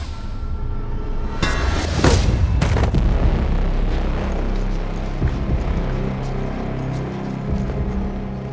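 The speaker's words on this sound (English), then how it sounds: "Did Hondo just skip a bullet?" Gunfire in a S.W.A.T. TV scene, with a sharp burst of shots and a bullet skipping, loud cracks followed by a rumbling, booming background that keeps going.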